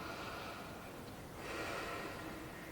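A person takes a deep breath while holding a standing stretch, a soft, airy inhale and exhale rising in the middle, close and quiet against a hissy background.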